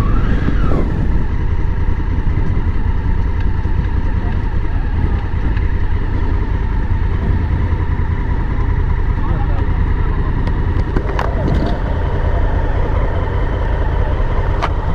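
A Honda Africa Twin motorcycle, a 2018 model, runs steadily on a test ride, its engine a constant loud rumble with wind noise throughout and no pauses.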